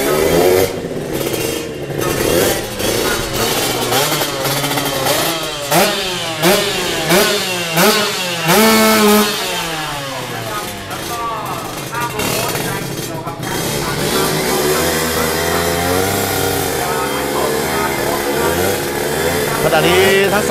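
A Kawasaki racing motorcycle at an underground drag race revs hard, its engine note rising and falling in a wavering pitch for about twenty seconds, while an announcer talks over it throughout.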